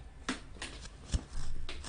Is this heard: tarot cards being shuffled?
yes